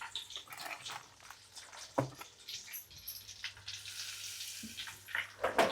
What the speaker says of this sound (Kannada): ಎಣ್ಣೆ ಜೊತೆಗೆ ಈ ಥರ ಸ್ವಲ್ಪ ಗೋಲ್ಡನ್ ಬ್ರೌನ್ ಬರೋವರೆಗೂ ತತ್ತಿನ ಫ್ರೈ ಮಾಡ್ಕೊಂತ